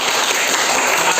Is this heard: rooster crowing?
no